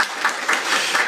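Audience claps to welcome a speaker at a panel discussion, a short, dense stretch of applause with slight rhythmic surges.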